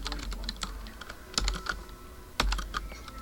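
Computer keyboard being typed on while writing C# console code, a quick close patter of keystrokes with a few louder taps, no talk.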